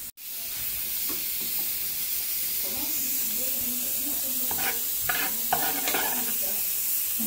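Melted butter with garlic is stirred in a pan, giving a soft continuous sizzling hiss with gentle scraping strokes that grow busier in the second half.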